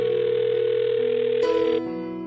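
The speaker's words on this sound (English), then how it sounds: "I'll dial her phone number right now and see if we can get her on the phone" Telephone tones sound loud and close, a steady tone that shifts into a short run of stepped dialing tones and then settles into another sustained tone, with no voices.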